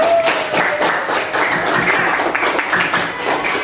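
Applause from a class of students, busy and fairly loud clapping that continues steadily for the whole stretch, with no speech over it.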